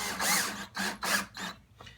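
Power drill driving screws to fix a handle onto a homemade wooden drawer, four short whirring bursts in quick succession, close and fairly loud, the last one softer.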